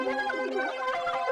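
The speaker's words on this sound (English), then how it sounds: "I found this ARP layer from some kid" Arpeggiator synth layer built in FL Studio, a short run of bright, gliding synth notes rising and falling in quick succession, sustained and alone without talk.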